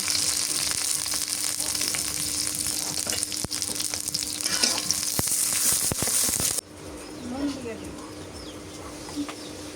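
Chopped onions fry in hot oil, giving a loud, dense sizzle that drops away abruptly partway through, after which a quieter background remains with faint bird cooing.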